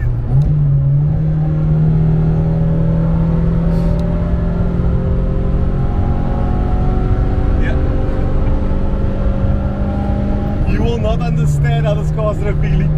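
An Opel Kadett GSi 16V cruises in fifth gear with a loud, steady engine drone and rising pitch, and a brief gear change near the end.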